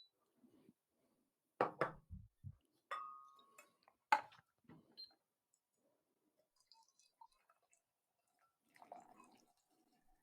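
Water is poured onto coffee grounds for a tasting, giving a few short splashes and knocks, then quiet with faint trickles and a later small burst, all close and soft.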